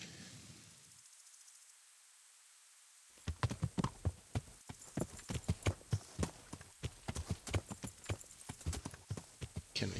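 Horse hooves clip-clop in Kingdom Come: Deliverance, a loud, steady run of close, sharp hoofbeats that starts after a brief hush, with the irregular rhythm of a horse walking.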